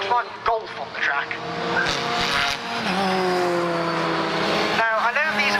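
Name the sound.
Volkswagen Golf driving on a race track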